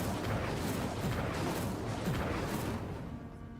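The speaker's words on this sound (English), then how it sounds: "Incendio." Incendio spell cast in the video game Hogwarts Legacy, heard as a sustained roaring whoosh of fiery noise with low rumble that holds for about three seconds before thinning out, with no talk.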